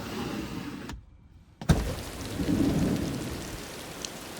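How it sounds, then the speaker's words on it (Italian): Rain falls with strong wind on a morning in Rivoli Veronese, a steady broadband wash that cuts out briefly, then returns with a loud gust and continues close to the microphone. "piove, c'è vento forte"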